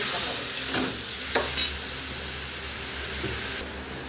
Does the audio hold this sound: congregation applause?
no